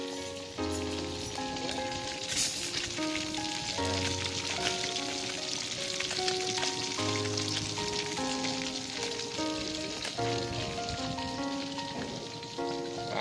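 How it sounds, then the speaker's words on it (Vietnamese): Fish frying in a pan in a kitchen gives a continuous, soft, rain-like sizzle that runs throughout, partly masked by melodic background music. "đang chiên cá"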